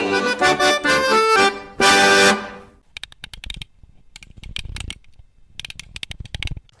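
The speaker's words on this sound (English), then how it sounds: "I've got keys that jingle, jangle, jingle." A set of keys jingles and clinks close by, first in a ringing metallic shake, then in scattered bursts of small rattling taps with brief pauses.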